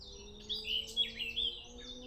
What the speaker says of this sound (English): I can hear a woodpecker.